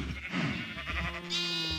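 Sheep bleating in the Minecraft video game, a few wavering calls in a row, fairly close and clear, with no talk over them.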